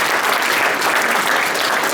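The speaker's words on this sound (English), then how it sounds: "Can we give them a round of applause?" Audience at a township community meeting applauding steadily, a dense, continuous wash of many hands clapping throughout, close and loud with no pauses.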